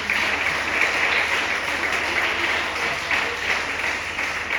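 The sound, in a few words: audience applauding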